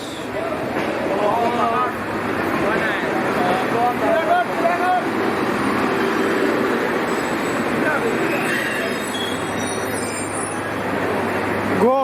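A train pulls into a station, its low steady rumble and rolling noise filling the scene from close by, with people talking loudly over it throughout.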